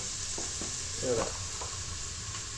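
Boiled chow mein fries in a wok in a village kitchen with a steady, close sizzle and hiss, broken by a few soft scraping stirs.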